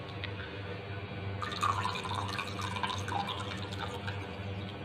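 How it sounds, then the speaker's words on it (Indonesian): Bear Brand milk pours into a pot of herbal jamu made with palm sugar, a close, steady liquid trickle with small splashes and drips that grows busier partway through. "Sebagai pelengkap kita akan memasukkan susu Bear Brand."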